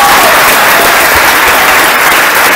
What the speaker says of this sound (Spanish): ese aplauso fuerte para nuestro padre Rigo